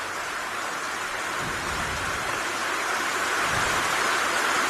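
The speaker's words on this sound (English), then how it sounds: "There's a lot of rain in my binoculars right now." Steady heavy rain pours down at an outdoor women's football match, a dense, even hiss that fills the air throughout with no voices heard over it.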